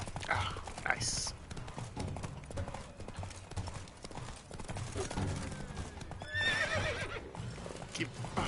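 Horse in The Witcher 3 game: steady clip-clop of hooves runs throughout, with a whinnying neigh rising near the end, amid game sounds and someone talking over it.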